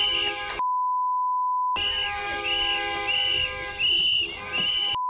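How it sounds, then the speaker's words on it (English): Shrill whistles blown by protesters outside a hotel housing ICE agents, repeated piercing bursts close by, broken by a steady electronic tone. "The whistles are so annoying."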